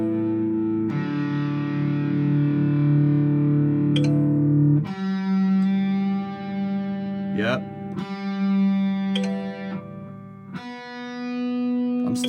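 Electric guitar tuned through distortion, sustained distorted notes held and re-struck several times as the pitch is adjusted, with a brief spoken word in between.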